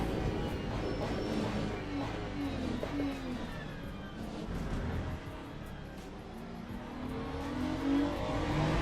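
Race car engine droning steadily on a straight at Monza in Le Mans Ultimate while tucked in a slipstream, a constant moderate motor tone with gear changes and no voices.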